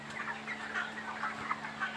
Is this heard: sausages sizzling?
no